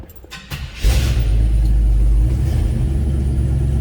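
The engine of a 1958 Chevrolet Apache pickup truck cranks and catches, then settles into a deep, steady rumbling idle close by.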